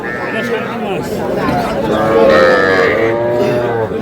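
A young Sahiwal bull calf moos in drawn-out, wavering calls close by at a cattle market, with background chatter and crowd noise throughout.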